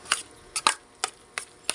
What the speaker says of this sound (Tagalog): Yan, igisa po muna natin to